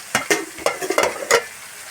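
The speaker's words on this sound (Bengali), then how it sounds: "একদিকে উচ্ছে ভাজা বসিয়েছি, আর একদিকে পুঁই শাকের তরকারি হচ্ছে" Bitter gourd frying in a pan, with a few sharp scraping, stirring bursts over a soft, steady sizzle, close and moderately loud.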